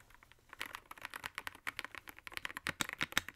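Rapid, uneven keystrokes on a Redragon EISA MAX gaming keyboard, close and fairly quiet, with bursts of clacky taps running steadily throughout and no voice over them.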